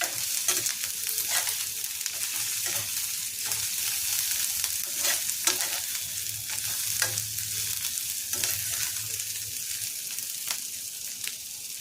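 Tempering with dried fenugreek leaves and kasuri methi fries in oil for Bengali torka dal, a continuous hiss of sizzling with repeated stirring scrapes and clicks throughout.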